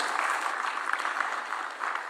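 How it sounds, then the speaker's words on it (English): Brief, steady applause from an audience honouring His Excellency at an affordable housing internship programme launch, a dense even patter of clapping heard throughout. "Round of applause for His Excellency one more time"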